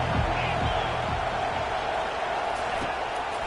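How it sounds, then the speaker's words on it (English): Steady roar of a football stadium crowd cheering for the defense on third down, a dense sustained wash of voices at even loudness with a commentator talking over it. "Decibels rising as the crowd gets behind this defense on 3rd down"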